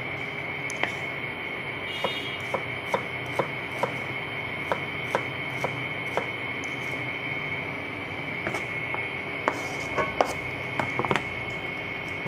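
A knife chops food on a board in a home kitchen, a series of sharp, irregularly spaced taps over a steady background hum, with no talk.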